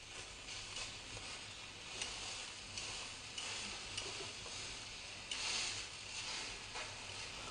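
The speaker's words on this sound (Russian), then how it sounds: "В этот момент идет интенсивная обжарка и создание корочки, которая дает вкус." Filet mignon steaks searing hard in a hot pan for a crust, a steady broadband sizzle with crackling spits and a few louder bursts, close and continuous, with no talking.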